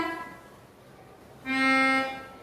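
A single soft, reedy melodica note rises out of quiet background hiss, held steadily for about half a second before fading.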